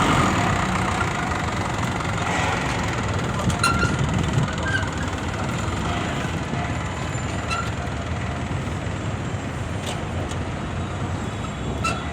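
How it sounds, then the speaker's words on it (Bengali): A 2006 truck with a 14-foot body and its original SO5D engine idles steadily, a constant low rumble with a faint clatter running throughout, close by and with no talking. "গাড়ির ইঞ্জিনের সাউন্ডটা অনেক সুন্দর"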